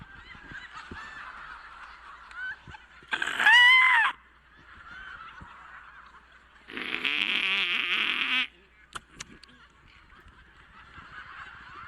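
A voice imitating bird calls: two loud, strained honking squawks, one short and one longer, separated by quiet stretches of low background, with a couple of faint clicks afterward.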